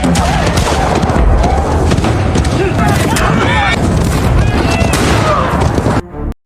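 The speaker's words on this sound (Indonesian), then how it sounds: "Karena fokus menembak saat berusaha kabur, Glass sampai tak sadar" Dense, loud gunfire rings out as horseback robbers shoot during a wilderness chase in a Hugh Glass film scene, with rapid overlapping shots and booms, and a voice talking over it until an abrupt cutoff.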